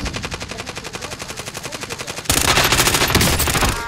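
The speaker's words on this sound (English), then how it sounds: "Just keep shooting, Snipe." Gunfire in Call of Duty: Modern Warfare, a loud close burst of rapid, evenly spaced automatic shots that thickens into a denser, overlapping volley midway.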